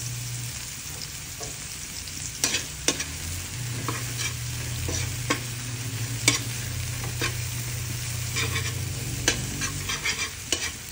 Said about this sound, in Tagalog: Ang bango talaga ng ginisang bawang at sibuyas.